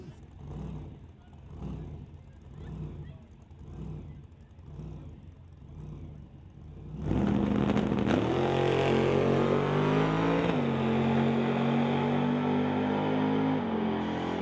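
A 1931 Model A drag race car, entered by White Knuckle Racing, makes a solo bye run at a drag strip. Loud engine idles in a steady pulsing rhythm, then roars into a sustained full-throttle launch and rises through a gear change as it pulls away.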